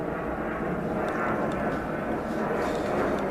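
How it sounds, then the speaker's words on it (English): Airplanes pass overhead near Phoenix Sky Harbor airport, a steady broad jet roar filling the whole stretch outdoors near a driveway car repair. "sorry about the airplanes going over."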